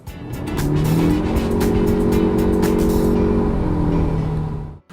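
Proton Iriz 1.6 Premium hatchback with a CVT gearbox driving at speed, its engine drone carrying a sustained tonal gearbox whine alongside road and tyre noise, loud and steady throughout with no speech.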